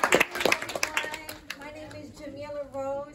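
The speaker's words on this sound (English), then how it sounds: "Give me another round of applause." A few scattered hand claps from an audience at a community safety meeting in a conference room, fading quickly as a voice begins speaking close by.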